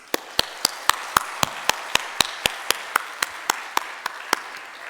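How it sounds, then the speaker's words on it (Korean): Clapping rings out at a Sunday church service: sharp, evenly spaced claps, about eighteen in a steady quick rhythm, clear against a quiet background. "하나님께 영광의 박수를 올리겠습니다."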